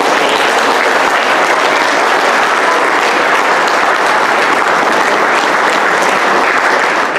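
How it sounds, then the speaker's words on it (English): A banquet audience at a boys' soccer banquet applauds four helpers, steady dense clapping filling the room at close range for the whole stretch, loud and unbroken. "I think a round of applause for what they did for me"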